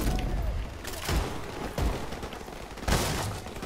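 Gunfire in Call of Duty Modern Warfare Remastered, with loud bursts of shots and booming impacts rising out of a dense, continuous battle din, close and heavy throughout.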